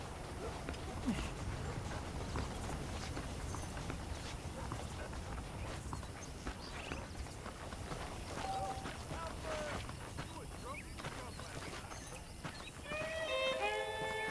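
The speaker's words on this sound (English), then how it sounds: "The horses are saddled up over here." Horse hooves clip-clop steadily in the Red Dead Redemption video game, a faint rhythmic patter mixed with game ambience, while a voice speaks briefly near the end.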